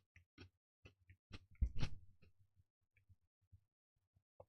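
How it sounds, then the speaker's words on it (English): Close, soft chewing and crunching of MRE cheese spread on a cracker, irregular bites and mouth clicks clustered in the middle and tapering to sparse smacks, with no talking. "And obviously, there's going to be chewing noises on the taste test."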